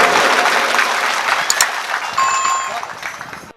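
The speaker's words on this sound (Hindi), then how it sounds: "सब कोई ताली बजाबो।" Audience at a Birsa Munda Diwas gathering breaking into loud applause, a dense burst of clapping close by that thins and fades toward the end, with a voice briefly heard through it.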